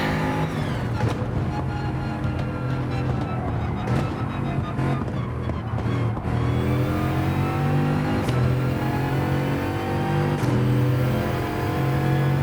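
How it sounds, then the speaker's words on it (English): A high-revving Bugatti engine in a Gran Turismo racing video game roars continuously, climbing in pitch through gear changes with brief drops between, loud and steady with no talking. "it feels like the Bugatti continues to accelerate even after it starts flashing"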